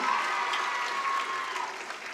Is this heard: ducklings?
no